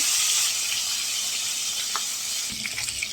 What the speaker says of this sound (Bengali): দেখো মাছ ভাজা হচ্ছে